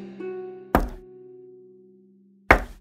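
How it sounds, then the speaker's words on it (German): Knocking on a door in a Snow White fairy-tale reading: two sharp, loud knocks about two seconds apart, with a sustained musical tone playing underneath. "Und dann hörte sie ein Klopfen an der Tür."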